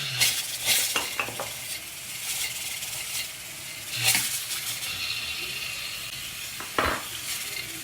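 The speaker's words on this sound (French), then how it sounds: "On mélange." Caramelized onions sweetened with honey are stirred in a pan, a steady broadband sizzle with scraping strokes of a utensil at irregular intervals, moderately loud and without talk.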